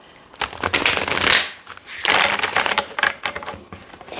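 Two bursts of tarot cards being shuffled, close and crisp, with rapid riffling and flicking, a short pause between them, and no voices.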